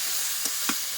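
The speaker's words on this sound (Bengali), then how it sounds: "ঘিয়ের মধ্যে গাজরটা দিয়ে দেব।" Carrot dropped into hot ghee for a sweet carrot pitha, giving a steady close sizzle with two brief louder bursts as pieces hit the fat, no talking.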